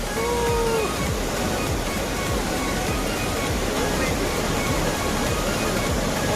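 Water rushes over the Nandur Madhmeshwar dam in a loud, dense, unbroken roar that fills the whole stretch without letting up.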